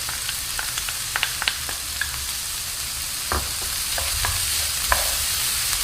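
Shallot and garlic fry over high heat in a pot for one-pot rice, a steady loud sizzle broken by scattered scraping stirs and clicks of a utensil, with no talking.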